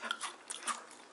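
Close-up crunchy bites into crispy BBQ Golden Olive fried chicken, a few quick crackling crunches in a short burst with no talking.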